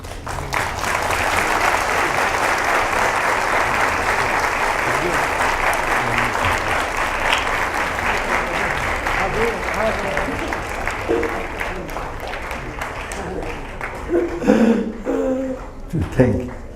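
A crowd claps hands in applause at a long life puja offering, steady dense clapping lasting many seconds before thinning out, with a few voices emerging near the end.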